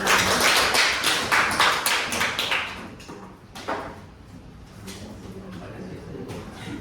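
Classroom applause from a group of students, dense overlapping claps loud at first, then thinning into scattered claps and fading under faint voices.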